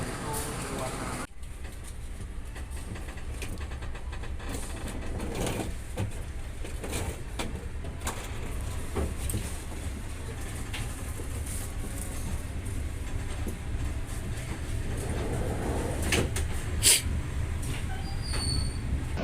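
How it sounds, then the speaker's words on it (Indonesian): Progres passenger train being pushed back onto a storage track: a steady low rumble of rolling railway wagons at moderate distance, with faint wheel noise and a brief louder clank near the end. "rangkaian kereta api Progres sudah didorong mundur menuju ke jalur simpan"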